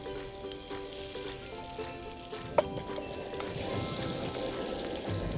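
Shrimp sizzle and fry in a pan reused from an earlier batch, a steady close crackle that swells louder partway through, with a few clinks of the pan or utensil.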